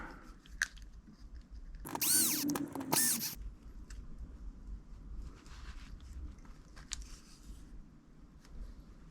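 A power driver spins screws back into the top of a vintage Team Associated RC8 radio-controlled car during a rebuild, with a loud burst lasting about a second near the start over a quiet workbench background.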